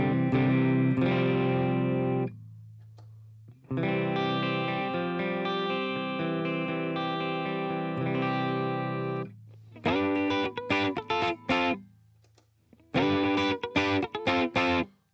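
Distorted electric guitar through effects with no reverb or compression, playing sustained chords, then a pause, then choppy strummed stabs with gaps between them, dry and upfront.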